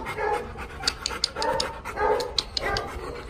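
An excited dog pants rapidly and loudly close by, its quick rhythmic breaths marked by small sharp vocal yips.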